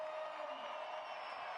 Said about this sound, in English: Crowd is going absolutely bonkers.